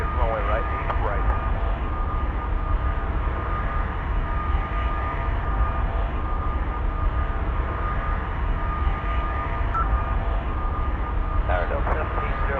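A Boeing 767's jet engines during takeoff in the flight game Airline Commander make a steady, loud roar that holds evenly throughout, with faint radio voices briefly surfacing over it.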